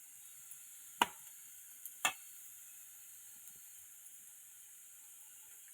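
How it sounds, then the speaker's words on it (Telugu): Egg fried rice mixture stirred and frying in a pan, with a faint steady sizzle under two sharp spatula scrapes and a few light knocks. "వీటిని బాగా కలబెట్టుకుందామండి."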